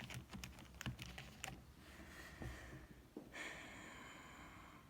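Keys pressed on a graphing calculator while entering a quadratic equation, a quick run of close, faint clicks followed by a couple of sparser taps and a soft electronic tone.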